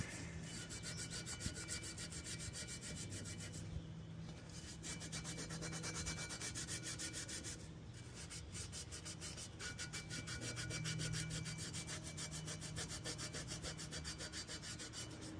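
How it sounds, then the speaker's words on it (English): Steady abrasive scrubbing of a cast aluminum wheel on a '62 Biscayne with a Scotch-Brite pad, a continuous close rasping rub that runs throughout with brief pauses near four and eight seconds. "Maybe scrub it with a scratch brite a little bit."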